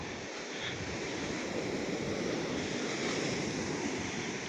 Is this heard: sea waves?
yes